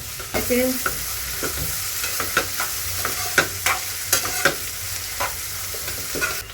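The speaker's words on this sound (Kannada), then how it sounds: "ಫ್ರೈ ಮಾಡ್ಕೊತೀನಿ." Fried rice ingredients sizzle steadily in a pan while a spatula stirs and scrapes in frequent sharp taps and scrapes across several seconds, close and alone.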